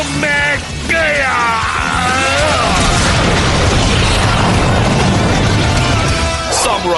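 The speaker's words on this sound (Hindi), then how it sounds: "Revolving laser blaster. फायर।" A revolving laser blaster fires in a Power Rangers Super Samurai episode dubbed in Hindi: loud booming blasts with descending whooshing zaps and a rumbling roar, mixed with shouting voices and dramatic sound effects.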